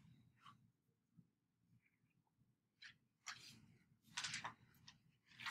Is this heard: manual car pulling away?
no